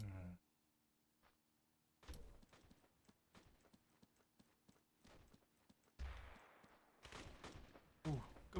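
Gunfire in the WW2 Online video game comes as a string of sharp rifle and small-arms shots, some isolated and some in quick clusters, with loud bursts near the start, middle and end.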